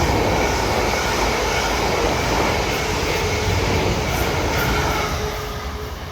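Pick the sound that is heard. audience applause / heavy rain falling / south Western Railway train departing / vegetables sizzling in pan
south Western Railway train departing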